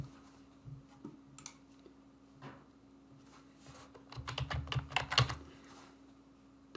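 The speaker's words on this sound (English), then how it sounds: "Again, we'll type in SharePoint." Keys clatter on a computer keyboard in a quiet room, starting with scattered taps and building into a faster, louder run of typing, with a faint steady hum underneath.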